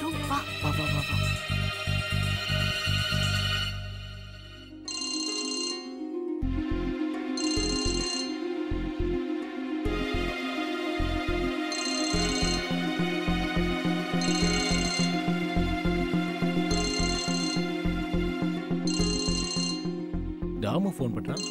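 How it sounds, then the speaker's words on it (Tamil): A telephone ringtone in a Tamil TV serial, loud, repeating in regular bursts of about one per two-and-a-half seconds over a sustained musical background score. "டாமோ ஃபோன் பண்றான்"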